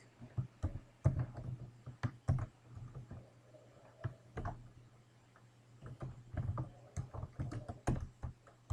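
Keys tapped on a computer keyboard in quick, irregular bursts with short pauses, close and fairly quiet, no talking.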